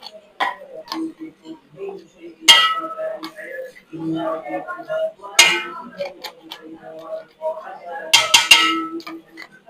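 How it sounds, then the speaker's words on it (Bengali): Spoons clink and clatter against dishes while iftar is served, a scattered run of bright metallic taps and a few sharper clangs, close by, with a voice talking among them. "গাইস এখন চামচ নিয়ে আসছি এখন ভালোভাবে হবে"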